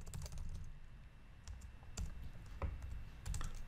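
Rapid typing on a computer keyboard while writing Python code, with clusters of sharp key clicks and a few louder keystrokes over a low, steady room hum.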